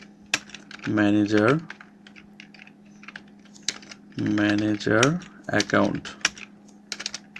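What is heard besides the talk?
typing on a computer keyboard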